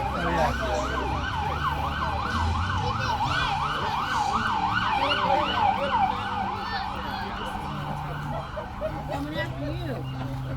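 An ambulance and a fire truck in a Fourth of July parade sound a loud, rapidly warbling siren, later steadier and fainter. Engines rumble below it, and people talk throughout.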